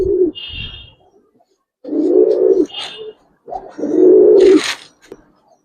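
Giribaz pigeons cooing in a pair, several deep rolling coos in bursts close by with short pauses between, alone without talk.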